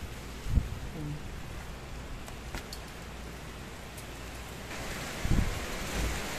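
Steady rain during a typhoon pours down around a house, its water getting inside, with a continuous soft wash of noise and a couple of brief low thumps.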